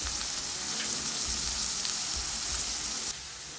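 Chopped onion and dhania (coriander) stalks fry in a pan for a chicken curry, with a loud, dense, steady sizzle and crackle that drops slightly near the end.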